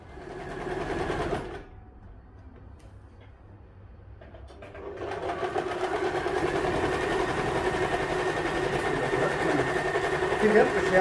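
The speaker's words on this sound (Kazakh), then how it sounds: "Енді мен мына қолының манжетін тігемін." A sewing machine stitching a sleeve cuff on a sports tracksuit, running in a steady buzzing whir after a brief pause; the motor is fairly close and continuous, with some speech under it.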